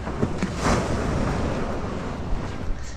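Continuous roar of surf and churning water with gusts of wind buffeting the microphone, steady and fairly loud throughout.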